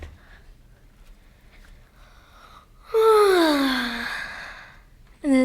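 A long, loud yawn sweeps downward in pitch as a sighing exhale, preceded by quiet background and followed by the start of another loud vocal sound, in a dramatized retelling of the king scene from The Little Prince.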